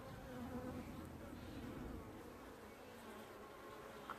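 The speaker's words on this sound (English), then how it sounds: "This bee's in the way." Honey bees around a swarm, heard while the swarm queen is being marked, make a steady, faint, continuous buzzing hum that fills the air close by, with no talk over it.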